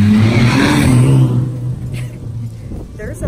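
Street cars revving on a city block make a loud, low engine rumble and growl up close for the first second and a half, then fade to a softer, steady drone.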